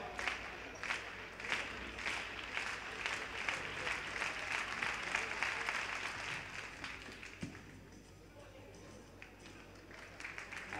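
An indoor crowd at a Galician indoor track championship claps in a steady rhythm for a men's triple jumper before his attempt. The beat is loud at first, then thins out after about seven seconds, with voices talking underneath.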